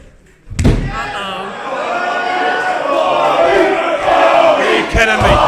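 A wrestling video game crowd roars in a loud, sustained swell after a heavy slam-like thud, with a rhythmic chanting texture and another impact near the end.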